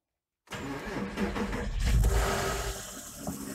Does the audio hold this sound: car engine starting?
yes